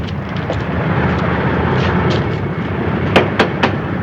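A plane arriving at an airport near Machu Picchu, Peru: a steady broad engine roar holds throughout, with a few sharp louder bursts near the end.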